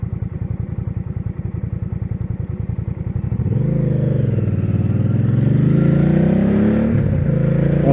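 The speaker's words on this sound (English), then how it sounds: "Hopefully this exhaust that I put on here isn't just totally drowning everything out." A Hyosung GV650 motorcycle with an aftermarket exhaust thumps in a rapid, even idle pulse, then the rider pulls away and the engine rises into a loud, steady, rumbling drone that climbs with revs, close and dominant.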